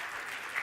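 Audience applause at a Ford green business panel during an auto show, a brief soft patter of clapping heard from a distance.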